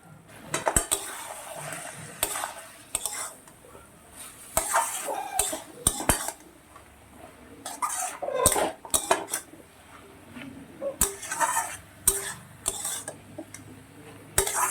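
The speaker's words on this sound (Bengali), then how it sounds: "এইভাবে আমি বেশ কিছুক্ষণ এটাকে ভালো করে নেড়ে চেড়ে নেব" A spoon stirs shish palong chorchori, a mixed vegetable dish with ground mustard, cumin and chilli, in a pan. It scrapes and clatters against the metal in irregular bursts, close and fairly quiet, with a faint sizzle underneath.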